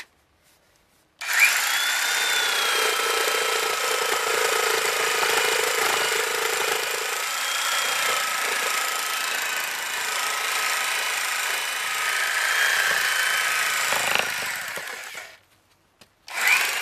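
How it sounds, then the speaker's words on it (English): A corded reciprocating saw, plugged into an outlet running off solar power, cuts through a wooden 2x4 in one loud, continuous buzzing stretch of about fourteen seconds before stopping abruptly. "I got my reciprocating saw plugged in right here to the electrical outlet. We're going to cut this 2x4 here."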